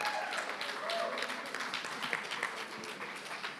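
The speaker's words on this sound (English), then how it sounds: "Let's give him another round of applause." Audience applause for a speaker at a labor panel during a summit, a steady spread of clapping at moderate distance with scattered louder hand claps and faint crowd voices mixed in.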